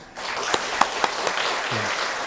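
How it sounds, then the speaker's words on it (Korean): Brief applause from a church congregation welcoming new members during a Sunday service, a moderate hall-filling patter with a few sharper claps standing out and a short murmur near the end. "다시 한번 박수로 환영하실까요?"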